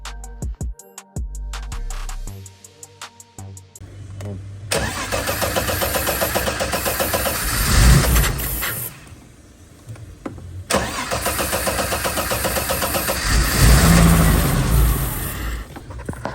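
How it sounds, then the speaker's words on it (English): A BMW E30 325i cranks in rapid starter bursts before its engine fires on starting fluid and settles into a loud, close, uneven idle with a few revs. The car has been rebuilt with a fresh sump gasket after sitting for four years. "So you just heard that it got fired up on the easy start"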